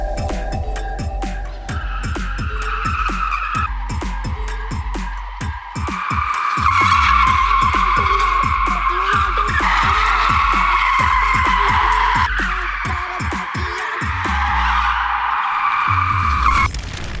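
A Honda E city car skids with long, loud tire squeals that run almost without a break, over a steady, throbbing motor drone.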